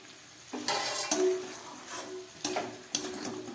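Spices for ghugni frying lightly in a pan, a soft sizzle broken by several sharp scrapes and knocks of a spoon stirring against the pan, close and fairly quiet, no voices.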